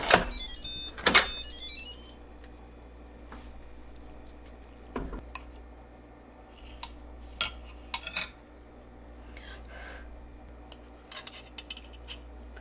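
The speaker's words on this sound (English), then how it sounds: "Now we can open the lid." An Instant Pot lid is twisted open after quick release, with a sharp metallic clank and rattle near the start, then a few softer clinks and taps of the lid and pot in a quiet kitchen.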